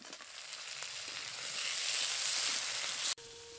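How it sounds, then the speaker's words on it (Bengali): Thinly sliced potato frying with lightly fried onion in hot oil, a steady hiss that swells louder and brighter before cutting off abruptly near the end. "এবার আলুটা একটু ভাজা ভাজা হওয়া পর্যন্ত নেড়ে নেব।"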